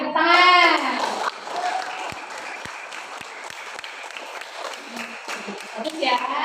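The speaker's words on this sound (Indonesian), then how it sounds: "Tepuk tangan." A classroom of students breaks into a burst of clapping right after a short spoken line from a voice. The clapping starts loud and crisp, then settles into a steadier patter that swells again at the end.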